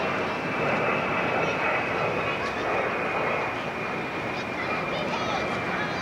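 An F-111 military jet flies over, a loud continuous broadband roar that stays strong and steady throughout, heard outdoors during a vacation at Niagara Falls in 1987.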